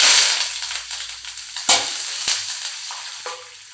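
Curry leaves dropped into hot oil while making papaya pickle, a loud crackling sizzle that swells at first and then settles into steady frying with a few sharp pops and stirring scrapes.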